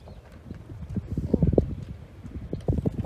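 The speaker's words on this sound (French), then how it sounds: "il est intéressé par l'autre cheval qui est en train de passer là-bas." A horse walks past nearby, its hooves clip-clopping in an uneven series of soft thuds that swell in the middle of the passage, over low outdoor rumble.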